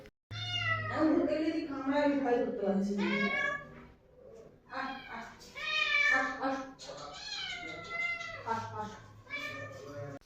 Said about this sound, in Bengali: ও পড়ে গিয়ে আর ওখানে আটকে গিয়ে ম্যাও ম্যাও করে চিৎকার করছে